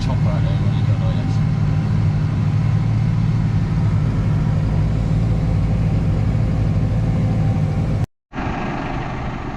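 A tractor-driven straw chopper spreads straw in a cattle shed, giving off a steady, loud low engine drone with a mechanical whirr. The sound continues unbroken until a brief cut near the end.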